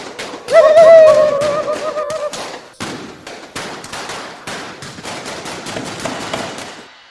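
Rapid bursts of gunfire crackle in a radio drama staged by a community theatre, loud and close, with sharp shots in quick uneven volleys across the whole stretch.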